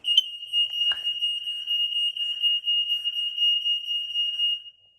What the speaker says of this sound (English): So testing the smoke alarm.